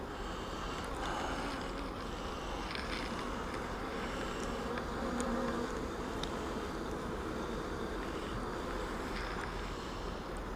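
Honeybees hum steadily around an opened beehive on a cold April day, a dense continuous drone close to the microphone, with no voices over it.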